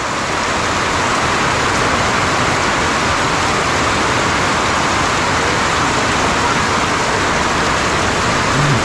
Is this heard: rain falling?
yes